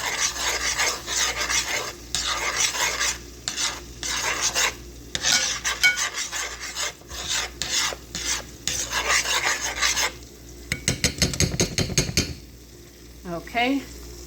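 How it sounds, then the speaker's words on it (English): A spoon stirs sauce for Asian peach hot wings in a pot, a close rhythmic scraping and rubbing in quick strokes with brief pauses, ending in a few light clinks and taps. "I want to stir that up pretty good"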